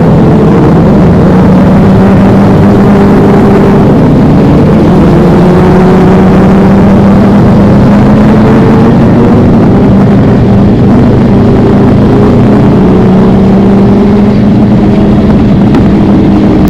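A 150 cc Honda Vario scooter engine revs loudly alongside other motorcycles at a group ride meet in Sumedang, a steady droning roar with rising and falling pitch sweeps, continuous and close throughout.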